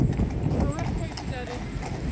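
Horses clip-clop along nearby in Blackpool during the illuminations, a steady trotting beat heard beneath people talking and general street bustle.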